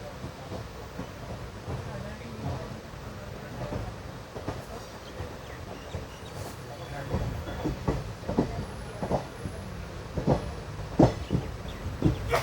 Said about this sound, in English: A VAP4 locomotive from Bhusawal shed was pulling our train today.